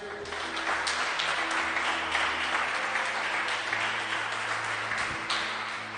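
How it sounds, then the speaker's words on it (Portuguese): A church congregation claps together in steady, dense applause that fills the space, with faint sustained musical tones underneath throughout. "Quem pode aplaudir Jesus?"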